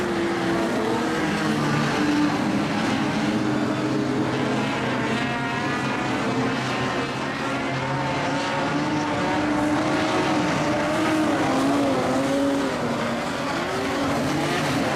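Modified sedan race cars roar around a dirt speedway at Kingaroy during a B-Main race, engines loud and continuous with rising and falling revs as several cars pass close by for the full stretch.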